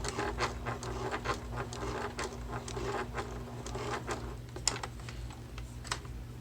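A sewing machine stitches across and back on a shoulder bag, giving a close, steady run of rapid mechanical ticking with a constant motor hum underneath and no voices.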